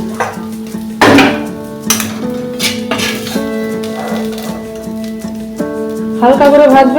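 Fried parse fish lifted out of hot mustard oil, with metal utensils clinking against the pan in several sharp hits over a faint sizzle, close and fairly loud.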